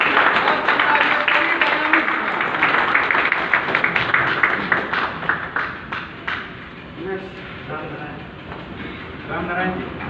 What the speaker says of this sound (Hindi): शिवम जी के लिए एक बार जोरदार तालियां।